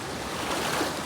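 Clear river water flowing steadily as a continuous broadband rush, close and even, with no talk, on a river where gold is mined.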